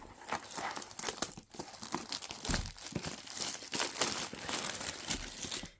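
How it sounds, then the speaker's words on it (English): Two stuck-together packs of Reynolds Wrap aluminum foil being ripped apart up close, giving loud, continuous crinkling and tearing with sharp crunchy bursts throughout and no talking. "So you got two packs stuck together. We're gonna rip that apart."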